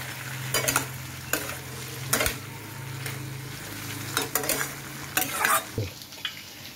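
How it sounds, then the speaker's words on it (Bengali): Vegetables and spices are stirred in a hot frying pan, with a steady sizzle under repeated scraping strokes of a spoon against the metal, close by and with no talking. "এবার এগুলো দিয়ে খুব ভালো করে একবার মিশিয়ে নেব।"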